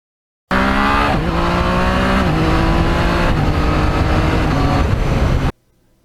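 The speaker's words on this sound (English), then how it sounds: "And this is where the MT09 is really at its best, on these back roads, hilly roads, twisty" A Yamaha MT-09 naked motorcycle rides hilly, twisty back roads, its engine note loud and close, rising and dropping as it shifts through gears for about five seconds before cutting off.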